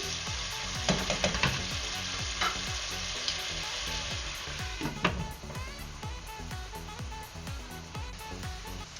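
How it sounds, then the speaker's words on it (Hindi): Chicken for white chicken handi cooking in a pot over a medium flame, giving a steady, close sizzle and frying hiss throughout with faint clinks and stirring noises, no talk. "इसको ढक के तकरीबन 3 से 4 मिनट के लिए इसको पकाऊंगी ताकि चिकन थोड़ा सा टेंडर हो जाए"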